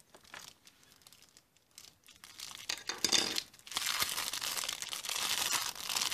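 A parcel's packaging is pulled and torn open up close, with quiet rustling at first and then louder, sustained crinkling and ripping that runs to the end.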